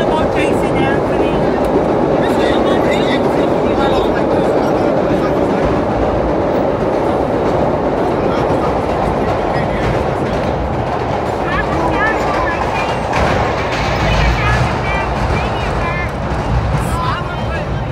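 A New York subway holiday train between 14th Street and 96th Street runs fast along the tracks, a loud continuous rumble with rattling wheel clatter and squeals, while people talk in the car.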